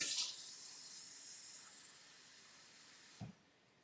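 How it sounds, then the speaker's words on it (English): Water is poured into a cup as fresh water is combined with boiled water in a kitchen, giving a soft steady hiss that stops with a small clunk near the end. "I'm combining a cup of boiled with a cup of fresh water here."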